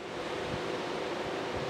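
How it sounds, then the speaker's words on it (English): Wind blowing across a lake by a dam, whipping up small waves, with steady broadband rush and faint lapping water, fairly quiet, no voices. "Wind's making some waves,"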